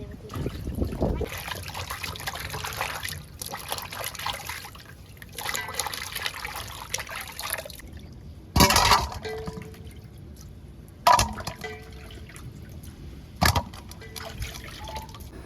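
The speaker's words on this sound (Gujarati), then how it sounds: "સૌથી પહેલાં તો આપણે આપણે ટમેટા અને આદુ ને બધું ધોઈ નાખવાનું છે" Tomatoes and ginger rinsed in water, giving a steady trickle and light splashing for about eight seconds, then brief louder sloshes and clinks at intervals with quiet gaps between.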